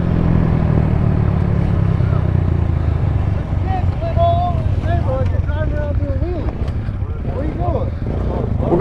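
A small mini bike engine drones steadily at low speed during a slow ride, heavy wind buffeting over it, while people talk and shout nearby.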